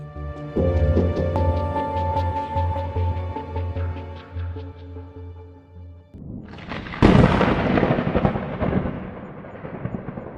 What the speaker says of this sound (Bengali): আকাশ কালো মেঘে ঢাকা, বিদ্যুৎ চমকাচ্ছে।